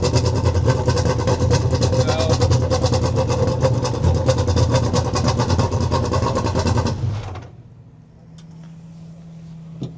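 Race car engine running loudly at a track, a dense, continuous roar with a rough throb for about seven seconds, then shutting down to a low steady hum.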